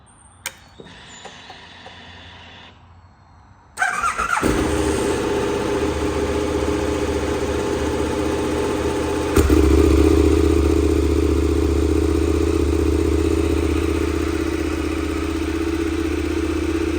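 A KTM 1290 Adventure motorcycle engine starts after a quiet moment and then runs loudly and steadily up close, with a step up in revs near the middle before holding a constant drone.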